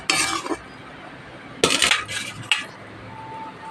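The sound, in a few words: fried fish oil poured from a wok onto a plate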